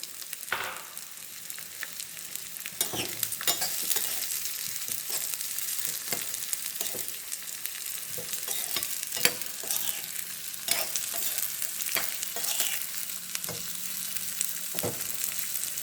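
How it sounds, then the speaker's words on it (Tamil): Medium onion pieces sautéing for mutton chops, a soft continuous sizzle broken by periodic spoon scrapes and taps as they are stirred in the pan, fairly quiet with no talking. "வெங்காயம் நல்லா வதக்கி போடணுங்க"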